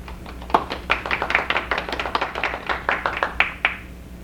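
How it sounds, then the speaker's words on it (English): An audience at a Thomaston High School awards ceremony applauds the class of 2024, a moderately sized crowd clapping in a steady, uneven patter of distinct handclaps that tapers off toward the end. "Let's have a round of applause for the class of 2024."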